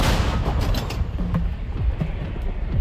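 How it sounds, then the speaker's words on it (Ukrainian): A long-range artillery gun fires during combat near Kupiansk, a loud booming blast with rumbling low-end noise and mechanical creaks as it settles, heard up close without talk. "працюю із дальнобійною артилерією"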